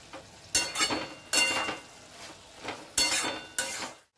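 Shrimp and Malabar spinach stems are stirred together in a frying pan, with four bursts of scraping spatula strokes and clinks over a soft ongoing sizzle, close by and without speech.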